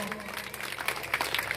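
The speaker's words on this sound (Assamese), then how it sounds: "আকৌ আপোনালোকে এটা হাত চাপৰি দিয়ক।" Brief burst of audience applause at a book-launch ceremony, a dense patter of clapping hands that holds steady through the short moment.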